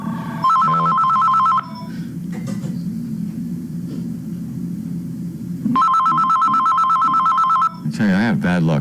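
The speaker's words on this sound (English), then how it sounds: "That phone rings Call from wireless caller. every time I sit down." A loud electronic telephone rings twice, each burst about a second long with a long gap between, while someone talks over a low background rumble.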